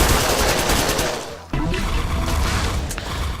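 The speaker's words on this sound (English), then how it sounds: "it just fires a bunch of rockets out, and so it's pretty easy to take out groups of enemies this way" The rocket minigun in the video game Crimsonland fires a loud, dense barrage of rapid shots and explosions that barely let up, with one brief dip midway.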